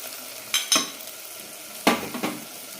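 Spice powders (turmeric, coriander, garam masala and chilli) being stirred into tomato masala frying in a pan for a soya chunks salna, with a few distinct scraping strokes over a soft, steady sizzle.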